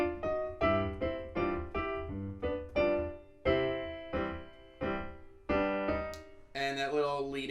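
Solo piano plays the closing bars of a section of Scott Joplin's ragtime piece "The Entertainer," crisp bouncing chords and a short rising lead-in, close and unaccompanied with no talking.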